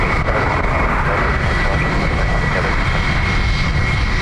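Jet airliner engine roaring during takeoff at Dublin Airport, a loud continuous broadband rumble with a steady high whine, sustained throughout.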